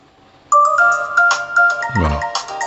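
Smartphone ringtone from an Oukitel WP8 Pro rugged phone, starting abruptly after a brief quiet lead-in, then a loud bright melodic tone pattern played through the phone's speaker, close by and on its own.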